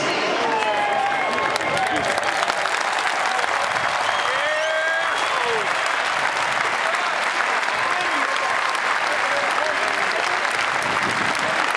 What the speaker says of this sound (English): please join us in one more round of applause